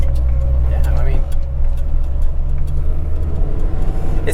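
A 1994 Honda Civic Si drives along the road, its engine a steady low hum with continuous road noise, heard from inside the car beneath talking voices.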